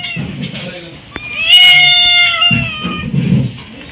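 A house cat among a litter of kittens at feeding time gives a drawn-out, clear meow close by. Low murmuring and rustling sounds come before and after it.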